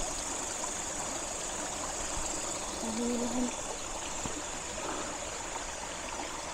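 A river rushes steadily at night near a balete tree, its broad, continuous flow filling the scene, with a faint brief tone and some soft background sounds over the constant water noise.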